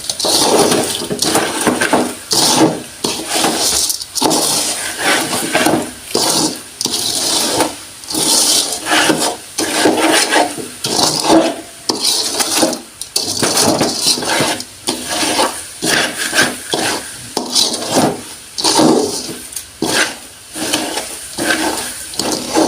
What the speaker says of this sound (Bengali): দিয়ে একদম সাথে সাথে নাড়াচাড়া করে মিক্স করে নেব